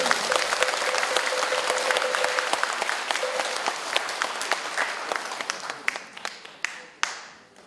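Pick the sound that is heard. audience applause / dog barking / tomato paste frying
audience applause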